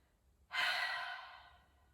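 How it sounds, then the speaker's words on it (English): One deep, slow exhale through the mouth during a yoga breathing practice, a soft airy rush that starts suddenly, sounds close, and fades gradually over more than a second. "exhaling through the mouth"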